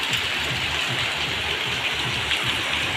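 Steady rain falling outdoors, a continuous dense hiss of drops with a faint low rumble beneath, even in loudness throughout and with no one speaking.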